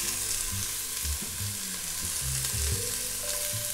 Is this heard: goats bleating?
no